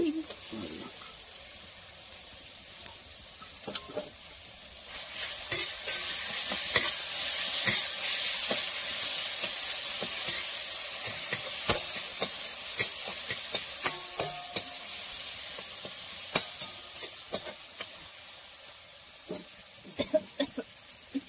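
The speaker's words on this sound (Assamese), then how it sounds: "এইখিনি মছলাটো ধুনীয়াকৈ ভজা হৈ গৈছে" Masala with ginger, garlic and chilli frying in a pan for a pork intestine dish, giving a continuous close sizzle with frequent stirring scrapes and taps of a utensil.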